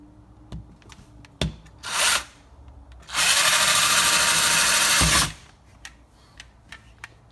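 A power drill bores holes into a metal center console gauge plate in two bursts, a short whir of about half a second followed by a longer, louder run of roughly two seconds, with quiet taps and handling noise around them.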